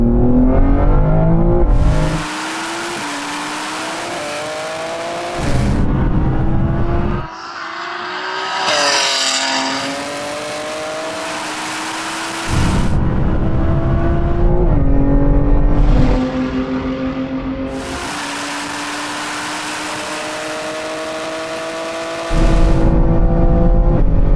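A Lamborghini Revuelto, a roughly 1000-horsepower BMW M3 Touring and a 1000-horsepower Audi R8 launch in a drag race, their engines roaring loudly and climbing in pitch through several sharp upshifts, with brief pauses between gears.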